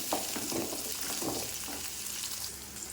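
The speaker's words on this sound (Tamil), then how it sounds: "அது கூடவே ஒரு மூணு பல் பூண்டு போட்டுக்கிறேன் அதையும் வதக்குறேன் அதையும் நல்லா வதக்கணும்" Three garlic cloves sauté in a pan for a black urad dal chutney, making a soft, steady sizzle with a few gentle stirring scrapes early on.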